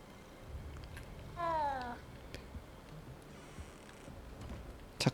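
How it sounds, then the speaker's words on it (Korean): A cat meows once in Hogwarts Legacy, a short falling cry that stands out clearly above a quiet background of faint ticks and hum. "도둑 들어냈는데 고양이가 반기네."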